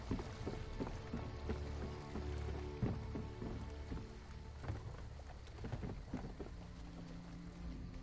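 A storm in the video game ESO (The Elder Scrolls Online) brings steady rain pattering on surfaces with low rumbling, thunder-like swells, quiet and ambient throughout.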